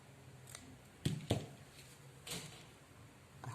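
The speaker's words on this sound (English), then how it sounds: "I cut the thread." Scissors snipping through sewing thread for a pleated turban cap, two sharp close cuts in quick succession followed by a softer rustle, with quiet background otherwise.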